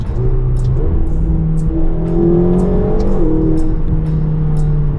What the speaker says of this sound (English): The V8 with the twin turbos just behind my head are pushing you with the gearbox that is very instant.